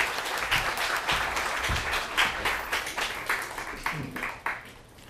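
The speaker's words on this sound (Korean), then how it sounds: "박수로 맞아주십시오." A lecture audience claps steadily to welcome the speaker, a full close applause that holds for several seconds and eases off at the end.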